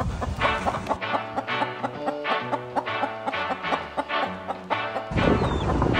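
Chickens at an allotment cluck and squawk in quick, repeated bursts, close and fairly loud, with a louder rustling burst at the end and no talk.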